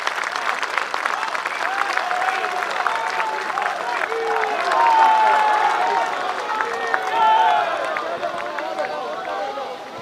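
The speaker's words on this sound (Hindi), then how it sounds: "उनका जोरदार तालियों से स्वागत किया जाए।" Sustained applause from a large audience at a Parakram Divas celebration in Kolkata welcoming the Prime Minister, a steady crowd wash with voices over it and two brief swells.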